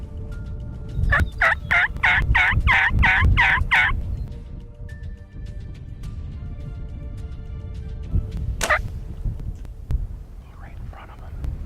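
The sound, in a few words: wild turkeys gobbling during hunt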